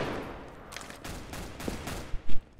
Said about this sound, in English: I'm gonna actually shoot you.